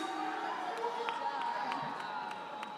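A large crowd at a high school graduation ceremony cheers and applauds the graduating class, with steady dense clapping and scattered shouts filling the space, staying loud and even throughout.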